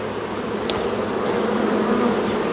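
A honeybee swarm being moved into a nucleus hive hums in a close, steady buzz that holds evenly throughout, with no voices.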